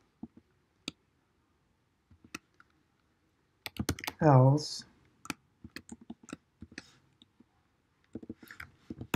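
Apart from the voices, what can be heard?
computer keyboard typing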